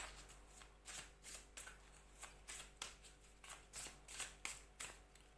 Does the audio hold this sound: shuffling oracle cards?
yes